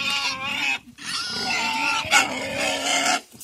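Iberian pigs raised outdoors squeal and grunt loudly up close in long, harsh bursts separated by brief pauses.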